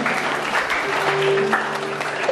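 Applause from a church gathering after a sermon, dense continuous clapping from many people with a faint tone humming underneath.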